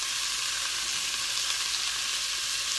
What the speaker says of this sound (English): Just need to give this a bit of a stir. There we go. Got that stirring.